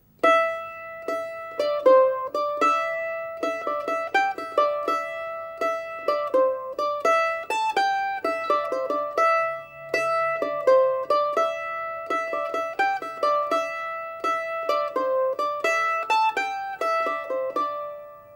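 A mandolin plays the melody of a Celtic tune alone, with bright plucked single notes and a few tremolo passages ringing out clearly and steadily, with no voice over it.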